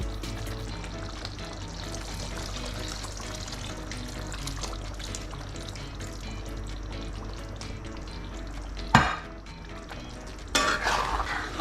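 Ground cashew paste pours into a simmering paneer mattar masala, a steady close bubbling and sizzling bed with soft stirring, broken near the end by a couple of sharper scraping clatters.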